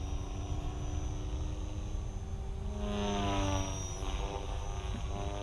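An Align Trex 470LP RC helicopter flies gently at low head speed around 80% throttle, its rotor and motor producing a steady whine and drone of moderate loudness with slight pitch shifts as it moves.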